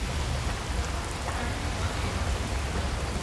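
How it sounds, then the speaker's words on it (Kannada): Steady rain falls outside on a rainy day, a continuous soft broadband hiss with faint scattered drops, even and unbroken throughout with no talking. "ಆಕ್ಚುಲಿ ಆಚೆ ಮಳೆ ಬರ್ತಾ ಇದೆ"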